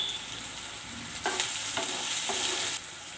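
Sliced onions and green chillies fry in a pan with a continuous hissing sizzle, interrupted by three or four scraping stirs from a spoon, close up with no talking.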